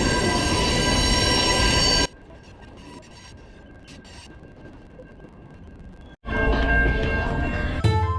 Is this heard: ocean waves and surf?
no